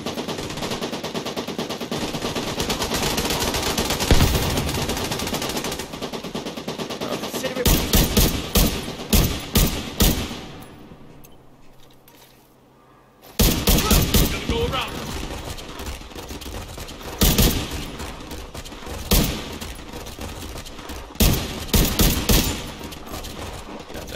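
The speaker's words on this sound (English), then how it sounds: "Where are they shooting at?" Video game gunfire rattles almost continuously in dense automatic bursts, breaks off into a brief quiet gap, then resumes with repeated loud volleys, while voices talk over the shooting.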